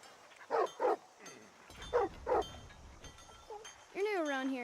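A dog barks in Skyrim, the fantasy role-playing video game: two quick pairs of sharp barks, then a drawn-out whine, close by, with faint game ambience.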